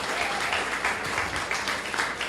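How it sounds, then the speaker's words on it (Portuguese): A crowd applauds at a book launch event, a fairly quiet, even patter of clapping heard somewhat distant throughout the short stretch. "muitas palmas para a Érica, né?"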